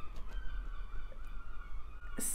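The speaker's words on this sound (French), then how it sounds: "Et on entend les mouettes." Seagulls call faintly in the distance, a few thin cries set against a quiet outdoor background with no talking.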